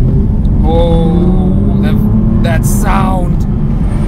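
An Aston Martin V12 Vantage with a manual gearbox drones loudly and steadily from inside the cabin, while someone talks over it in a brief exclamation.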